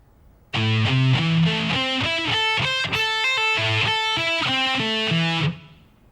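Distorted electric guitar playing a slow solo lick, a run of sustained notes moving up and back down in even steps, loud and close, alone for about five seconds before cutting off.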